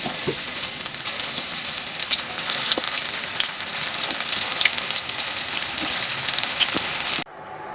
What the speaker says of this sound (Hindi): तो ये हो रहे हैं मेरे पकौड़े फ्राई